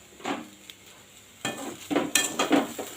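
Seeni avarakkai poriyal being stirred in a pan, with a few short scraping, sizzling bursts of utensil against cookware, close and moderately loud, separated by quieter gaps.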